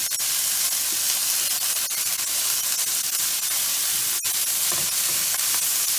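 Beef mince browning in a hot pan gives a steady loud sizzle and hiss, with a few faint scrapes as a spoon breaks it up.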